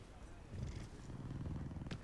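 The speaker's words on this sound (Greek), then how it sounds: "Γάτα." A cat purrs in a Hogwarts video game, a soft low rumbling pulse lasting about two seconds, faint and close, with game background sound around it.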